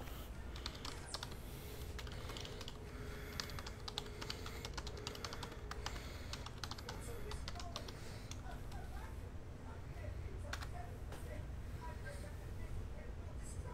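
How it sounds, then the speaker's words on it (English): Computer keyboard typing in steady bursts of faint clicks across a room during a trading card box break, with constant background noise underneath. "Here, I'll type it in for you though."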